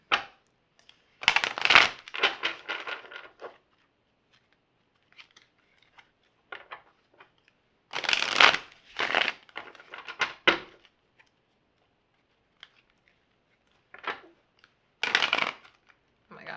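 A deck of cards is shuffled close up in several quick riffling bursts separated by silent pauses, crisp and papery, with a few lighter taps and flicks between.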